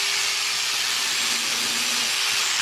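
A DualTools CS300 dual saw cuts through a wooden dowel, a loud, steady, close-up hissing buzz of the counter-rotating blades grinding through wood for a few seconds without pause.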